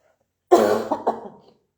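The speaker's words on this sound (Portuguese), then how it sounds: "Você está tossindo" A single harsh cough burst followed by a couple of shorter hacking coughs, close and fairly loud, then silence.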